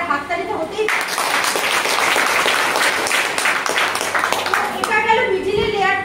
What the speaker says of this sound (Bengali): একটা হাততালি তো হতেই।